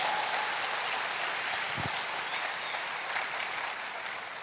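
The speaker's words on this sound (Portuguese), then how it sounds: "Dê uma forte salva de palmas." A congregation at a church service gives a sustained round of applause, an even wash of many hands clapping at moderate loudness that tapers slightly at the very end.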